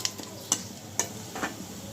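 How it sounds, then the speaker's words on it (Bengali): Bay leaf, dried chili, cardamom, cinnamon and fenugreek frying in a pan, a soft background sizzle broken by three or four sharp clicking taps from a utensil, close and quiet, with no voices. "দিয়ে দিব তেজপাতা শুকনো মরিচ আর এলাচ দারচিনি আর দারচিনি একসাথে এখন দিয়ে দিব সব আর মেথি সবগুলো একটু লাল করে ভেজে নেব"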